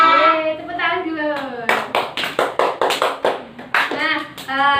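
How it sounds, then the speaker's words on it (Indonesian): A group of children claps hands together in a short burst of quick, sharp claps during an Indonesian storytelling session, with a voice speaking right before and after the clapping. "Yeay, tepuk tangan dulu."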